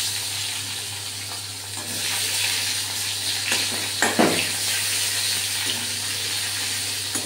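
Tomato sizzles steadily in hot oil with nigella seeds, asafoetida and dried chilli, a dense, even frying hiss with a few soft stirring clicks and scrapes partway through.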